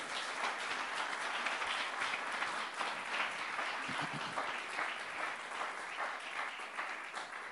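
A church congregation applauds continuously, dense clapping holding steady and loud from start to end with no talking.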